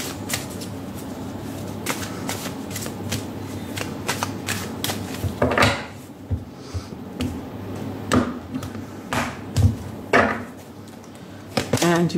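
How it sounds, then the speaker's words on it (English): Daily Crystal Inspiration oracle card deck being shuffled by hand, with a close run of crisp riffling and tapping card sounds that includes several louder snaps and bursts, with no talking. "I'm going to take out one card from the Daily Crystal Inspiration."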